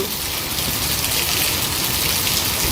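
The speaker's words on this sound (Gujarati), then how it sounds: "મેઘરાજા વરસી રહ્યા છે" Heavy downpour at the Anand Nagar crossroads in Vadodara, a dense, steady roar of rain hitting the street and surfaces, loud and continuous with no voices.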